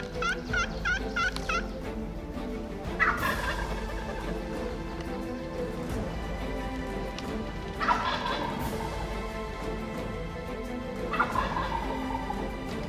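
Wild male turkeys gobble outdoors in Québec, with several rattling calls from moderately distant birds spaced a few seconds apart over quiet background.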